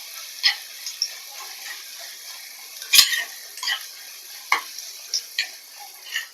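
Sliced onion stirred in hot oil with fenugreek in a pan, heard as sparse metallic ticks and scrapes of a spoon over a faint low sizzle, with one sharper clink near the middle.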